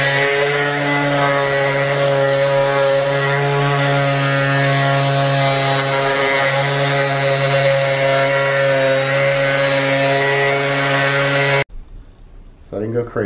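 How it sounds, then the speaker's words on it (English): A power sander works over a wooden table to lighten its finish, giving a loud, continuous buzzing drone that runs steadily for about twelve seconds before stopping abruptly, followed by a few brief faint sounds. "we are going to DIY sand them because we want them to be a little bit lighter"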